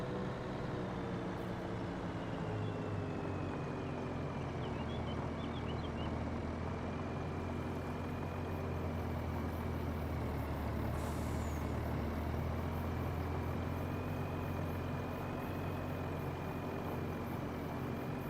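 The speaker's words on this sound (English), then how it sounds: "That truck is unloading down there." A truck unloads in Farming Simulator 25 on the Harvest Plains map, giving a steady low engine rumble with a hiss like an air brake, continuous and fairly even throughout, with no talking.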